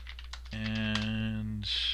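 Typing on a computer keyboard, a few faint, quick clicks at the start before a steady tonal hum takes over.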